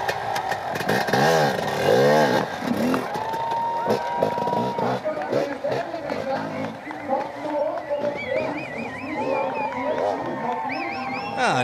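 An extreme enduro motorcycle of over 150 kg at the Erzberg Rodeo hare scramble, revving hard in high wavering engine whines as it tail-taps over logs, with a crowd cheering in the background.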